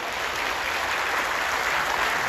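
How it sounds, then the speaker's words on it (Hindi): A crowd at a religious gathering in Jaipur claps in a dense, steady wash of applause that holds at an even level throughout. "आपकी तालियां कमजोर पड़ रही"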